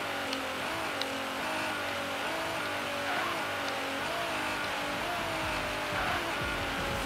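A Nissan GT-R screams down a drag strip in a wheelie test, its engine note rising in steady, sweeping pulls between gear changes, loud and close throughout with a faint tire hiss and no talking.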